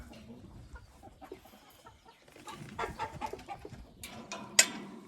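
Chickens in a coop, including young hens, give soft scattered clucks and rustling at moderate distance, with one sharper squawk near the end.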